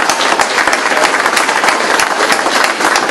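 A crowd at a volunteer tribute evening applauds the nominees, a loud, dense and steady wash of many hands clapping close by, sustained throughout without any speech.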